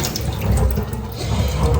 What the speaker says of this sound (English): So I'm just going to drain the water.